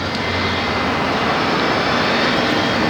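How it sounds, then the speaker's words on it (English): Spirit Airlines airliner flying downwind toward Fort Lauderdale, a steady broad jet roar heard from the ground at moderate distance, constant and unbroken, with no voices. "as I record Spirit Airlines downwind, it looks like, for Lauderdale here"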